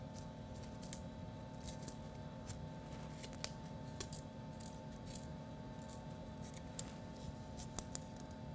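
Scissors snip through excess string on a handmade decorative owl mobile, making a series of faint, sharp cuts spaced irregularly in a quiet room.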